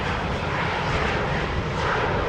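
An easyJet airliner landing at Schiphol Airport, heard as a loud, steady broadband jet roar with no pause across the whole stretch.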